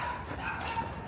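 A dog barks on a New York City street walk, a short bow-wow from a moderate distance over steady street background.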